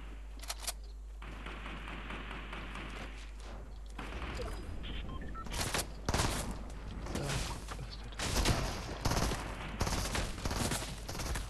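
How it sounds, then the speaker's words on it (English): Bursts of gunfire in Fortnite crack out in rapid volleys, some single shots and some sustained strings, fairly loud and repeated throughout against a low game hum. "Yeah, he's shooting me."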